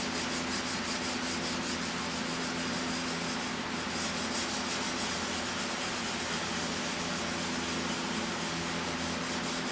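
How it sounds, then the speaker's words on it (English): Mild scrubbing of rust stains off a painted surface gives a continuous, even, close-up abrasive rubbing that runs throughout without pause. "with some mild scrubbing. Yeah, I know it's scratching the hell out of the paint"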